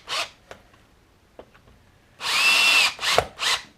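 A power drill drives screws to fix a lathe faceplate onto a live-edge walnut bowl blank, with a short buzz, then a longer whirring run and two quick bursts near the end, close and loud with small clicks between.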